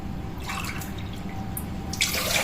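Water pours into a glass for baklava syrup, a steady close trickle that runs across the whole brief moment over a low background hum, with no one speaking.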